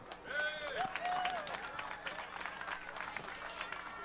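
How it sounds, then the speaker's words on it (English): An audience applauds at a Belize band festival field presentation ceremony in Orange Walk Town: sustained, fairly distant clapping from a crowd, with whistles and voices mixed in. "Let's give a round of applause for the Mayor of Orange Walk Town, Mayor Kevin Bernard."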